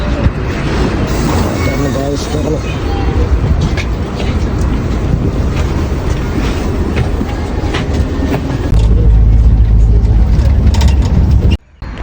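A loud city bus engine drones and rumbles steadily with rattling and road noise, deepening near the end, as a voice talks over it.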